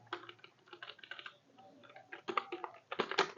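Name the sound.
typing on a computer keyboard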